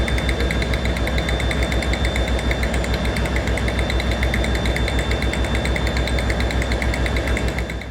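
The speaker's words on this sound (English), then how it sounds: "Many of the diesel engines are turning over in order to make my point." Several diesel railway locomotive engines idle together at close range, a loud, steady, dense throbbing rumble with a fine rapid knock running unbroken throughout, with no talk.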